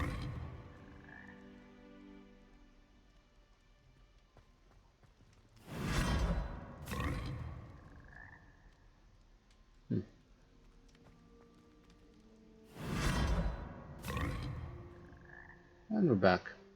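Toads croak in a fantasy wizarding-world game, several deep, rasping croaks with soft whooshing effects between them, spread across a quiet stretch and fairly close.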